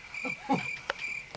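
Cricket chirping sound effect: a steady, thin high trill that runs the whole moment, with a few soft low murmurs beneath it.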